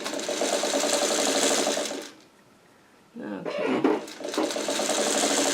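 A sewing machine stitches down pieces cut from fabric scraps for quilt blocks, running in a steady loud buzz, stopping for about a second, then starting again in short bursts as a voice speaks briefly.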